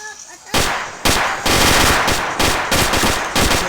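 Rapid automatic gunfire from a weapon in the video game Minecraft rattles out in loud, dense bursts, several sustained volleys separated by short gaps.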